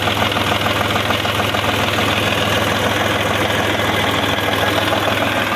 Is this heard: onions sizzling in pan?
no